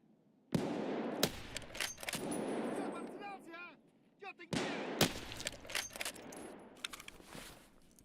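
Gunfire of 366 AP rounds in Escape From Tarkov, sharp separate shots in two clusters with metallic casing tinkles between them, and brief talk in the background.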